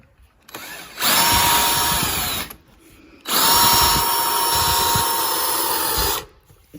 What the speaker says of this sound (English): I'm going to get in the centre of it with this drill bit.